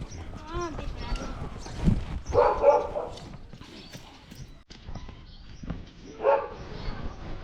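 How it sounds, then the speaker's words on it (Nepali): A dog barks a few times nearby in a Nepali village in the early morning, short sharp yelps breaking through ongoing voices and background activity. "दिपेन्द्रले नि कुकुर पाली छन्"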